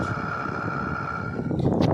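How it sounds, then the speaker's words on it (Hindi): An indoor air conditioner unit with a noise problem runs nearby, giving a steady whooshing hum with a constant tonal whine and a slight rise in rushing noise near the end. "ये हमारा इंडोर एसी का इंडोर चल पड़ा।"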